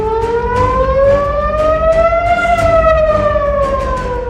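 A civil defense air-raid siren wails steadily, its pitch slowly rising then gently falling in a long continuous tone, loud and close, alone without voices.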